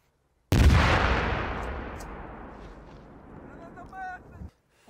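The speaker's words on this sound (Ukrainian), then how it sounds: "Постріл!" A single loud gunshot during a Ukrainian military drill near the Belarus border, a sharp close blast followed by a long decaying rumble with faint voices toward the end.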